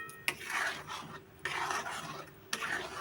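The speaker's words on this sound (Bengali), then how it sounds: "এই ছানার জল আর এই গুড় যতক্ষণ না এই জলটা মারা যাবে ততক্ষণ আমাকে নেড়ে যেতে হবে" Date-palm jaggery and chhena water being stirred in a pan, heard as repeated close scraping and rasping strokes in three bursts, with no voices.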